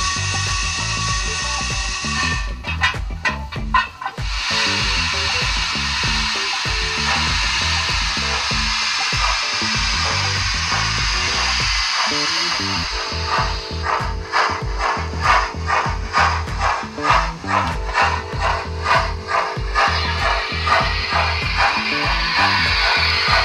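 DCC sound effects from a Hornby Princess Royal Class model locomotive: a continuous mechanical chuffing and hissing texture, with a rapid rhythmic beat building in the second half, loud and steady throughout with no talking.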